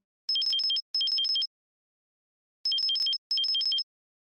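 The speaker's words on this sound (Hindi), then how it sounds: "देखना फोन आ रहा है।" Electronic phone ringing in two pairs of trilling bursts, each burst alternating quickly between two pitches, with a silent pause between the pairs.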